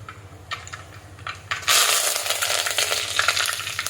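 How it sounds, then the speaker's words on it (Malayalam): Mustard seeds hitting hot coconut oil in a pan, a few scattered clicks and pops at first, then a sudden loud burst of dense crackling sizzle that carries on, close and without speech. "കടുക് വറുക്കാൻ നമുക്ക് വെളിച്ചെണ്ണ ഒഴിച്ചു കൊടുത്തു."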